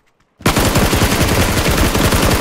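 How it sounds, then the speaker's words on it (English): Sustained automatic gunfire in PUBG: a rapid, continuous burst of loud shots beginning after a brief near-silent lead-in and running steadily to the end, close and dense with no talk. "I was shooting at my downed guy"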